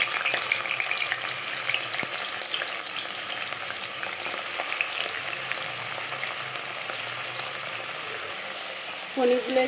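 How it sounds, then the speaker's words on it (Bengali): Cubes of paneer crackle and sizzle in refined oil in a kadai, a steady dense fry running the whole time with a few brief clinks near the end and no talk. "পনিরগুলো একটু ভেজে নেবো"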